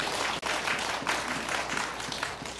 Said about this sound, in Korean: 박수 치셔도 됩니다.